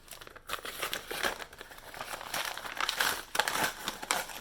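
Plastic wrapping around individually packed mail-order underwear crinkles and crackles in repeated close, quiet bursts as the package is handled and opened.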